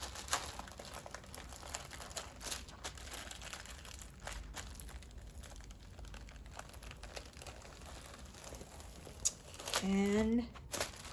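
Wax paper is peeled from the bottom of a homemade beeswax wrap, making steady close crinkling and soft tearing. A brief voice comes in near the end.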